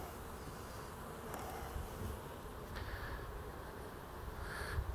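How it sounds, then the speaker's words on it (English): Honey bees buzz around an opened beehive in a close, steady drone, with a few louder passes of individual bees flying near. "these bees are more up in your face"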